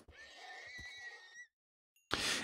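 A horse neighs in the Minecraft video game: one bright, close whinny with a falling pitch that ends abruptly, followed by a short gap and a burst of broadband game noise.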